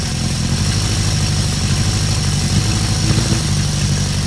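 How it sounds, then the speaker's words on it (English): A Kawasaki KZ650 motorcycle engine with carb cleaner sprayed behind one carburetor runs close and loud at a steady, lumpy idle, holding an even throbbing rhythm throughout. "back behind carb 3, shoot a little carb cleaner back there. Hear it run up."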